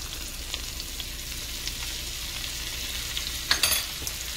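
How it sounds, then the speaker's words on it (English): Flour being whisked into melted butter in a pan to make gravy, a soft, even sizzle with light whisk scrapes and a brief clatter near the end, close by and without speech. "I'm going to whisk this around for about 2 or 3 minutes"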